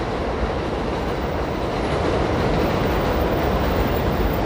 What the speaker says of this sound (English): the 7 train pulling into Queensboro Plaza.